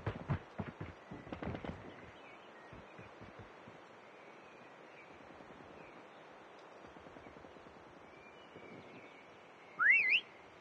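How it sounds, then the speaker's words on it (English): Whistle signal in the Call of Duty Mobile hide and seek game, a short rising two-note whistle near the end, after a quiet stretch of soft background game noise and a few distant gunshot-like pops at the start. "Next whistle in 10 seconds."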